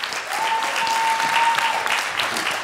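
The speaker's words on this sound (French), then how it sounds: "applaudissements pour Sébastien Simon" Applause at a Vendée Globe 2024 press conference for sailor Sébastien Simon, a steady round of clapping from a room of people, moderately loud and continuous, with a faint voice underneath.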